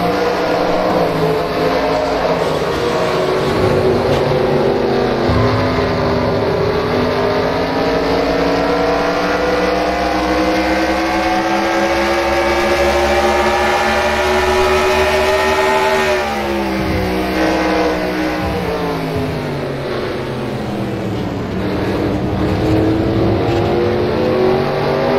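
Onboard race car engine during a SERL American Ethanol Series sim race at Charlotte, loud and close, holding a high steady whine that rises and falls through the laps with a brief dip and recovery partway through.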